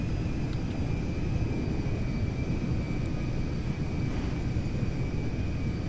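An A321neo jet airliner in a GTA 5 mod roars steadily during its takeoff, a loud, continuous broadband engine rush with a faint high whine running through it.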